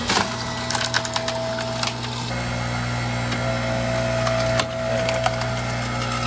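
A Bilt Hard 6.5 ton electric log splitter drives through a log indoors in a garage or shed, its steady electric motor hum running under loud cracking and splintering wood, with sharp snaps in the first seconds and another crack near the end.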